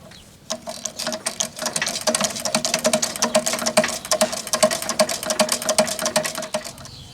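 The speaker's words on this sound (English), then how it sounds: "I'm just going to use the hand pump to fill the boiler" A hand pump on a small 5-inch gauge coal-fired steam locomotive pumps water into the boiler, a rapid, steady run of close mechanical clicks and clacks with a faint underlying hum.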